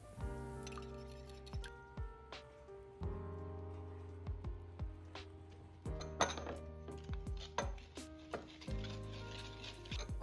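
Beaten egg is mixed into creamed butter and sugar in a bowl for melon pan dough, with repeated clinks and scrapes of a utensil against the bowl in an uneven rhythm, close and moderately quiet.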